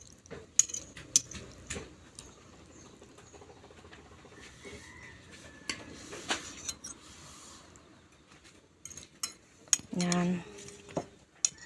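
Cutlery clinks and taps on plates while spaghetti is eaten, a scattering of quiet, irregular metallic ticks over a low background, with a louder clattering burst near the end and a brief spoken word.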